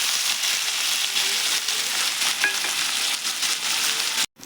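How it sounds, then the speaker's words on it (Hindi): Onions hiss and crackle in hot oil right after mustard seeds have popped, a dense, steady sizzle close by that cuts off abruptly at the end. "सरसों टिके फुटन दे दमा, तापर प्याज के हमें दे दमा।"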